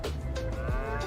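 Cattle lowing in Farming Simulator 22, Western Wilds map: a loud, close, sustained moo with a falling pitch, filling the short moment with no talk.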